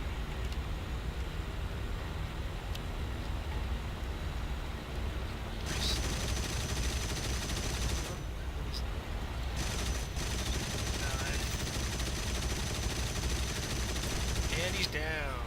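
Aircraft cannon and machine-gun bursts from a Yak-7B fighter diving on a Stuka in War Thunder, heard as several dense bursts over a steady engine drone, with a person talking at times.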